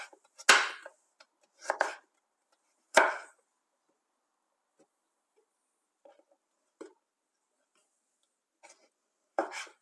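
Carrots are cut into thin strips with a knife on a board. A few sharp, close chops and scrapes come in sparse bursts, separated by near silence, with no voices.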